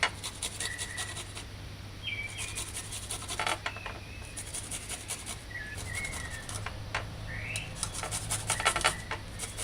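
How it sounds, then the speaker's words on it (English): Garlic cloves being ground, with close, gritty rubbing and scraping strokes in an uneven rhythm and occasional light clinks, moderately loud with no speech. "And then grind the garlic cloves"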